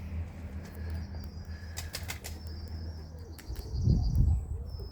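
Irish Old School Tumbler pigeons in a flying kit, with soft wing flapping and faint cooing over steady outdoor background, a louder burst of wingbeats near the end as a bird passes close.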